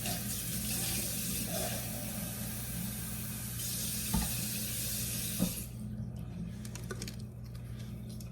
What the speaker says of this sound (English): I'm just gonna get a tiny bit of water.